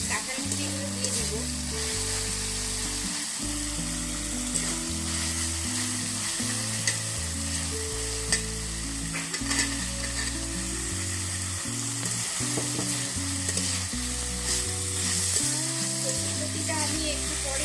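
Young jackfruit pieces fry and sizzle in a curry base as they are stirred, giving a constant crackling hiss, while a tonal electronic melody plays loudly over it throughout.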